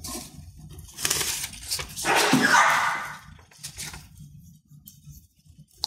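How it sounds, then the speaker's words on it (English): Several dogs barking excitedly in loud bursts of frantic noise, with a quieter stretch toward the end. "The dogs are going crazy."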